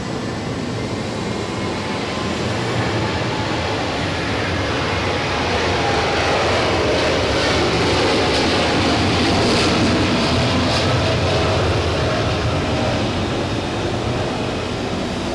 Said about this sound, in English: American Airlines now rolling